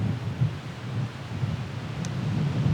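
Wind blowing at Loch Arran, a steady low buffeting roar across the microphone, continuous and fairly loud with gentle gusting swells.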